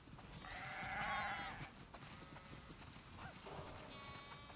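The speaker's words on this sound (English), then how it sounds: "Wow, that's a lot of sheep." Several sheep bleat in the video game The Last of Us Part II, one loud call up close followed by softer bleats, over a busy background of ambient noise.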